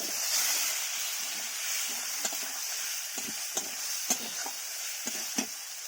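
Onion with ginger, garlic paste and spices frying in oil in a pan, a steady hiss of sizzling under scattered sharp clicks and scrapes of a spatula, close and moderately quiet.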